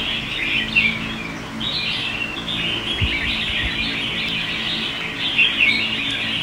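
A lively caged songbird chirps and tweets repeatedly in bright, busy bursts over a steady low background hum, fairly close with no voices.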